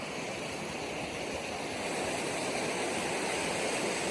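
Waterfall at the Lincoln trailhead in New Hampshire's White Mountain National Forest, a steady broadband rush of falling water that holds constant and close throughout, with no voices.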